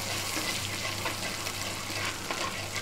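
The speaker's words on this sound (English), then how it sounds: "So it's sizzling nicely." Lamb vindaloo curry sizzling in a frying pan in a restaurant kitchen, a steady close hiss and crackle that lasts throughout with no talking.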